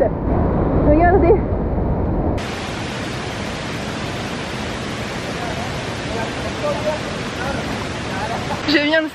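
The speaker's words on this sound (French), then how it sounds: "il y a un petit morceau de cascade" Small turquoise waterfall cascade in Laos, heard as a steady broadband rush of falling water that fills the whole clip, with speech faintly audible at the start.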